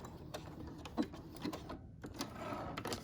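A sewing machine back-stitches a fabric medical mask, a faint, steady mechanical whir with brief stitching bursts and a short pause near the middle.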